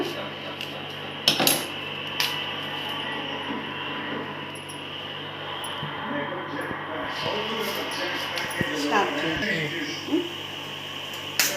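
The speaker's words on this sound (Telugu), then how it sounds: "గోపి పువ్వుని కట్ చేసి ఫస్ట్ కట్ చేసుకున్నాము" A knife cuts cauliflower into florets for homemade gobi manchurian, giving scattered close knocks and scrapes on a board over a steady kitchen hum, with talking throughout.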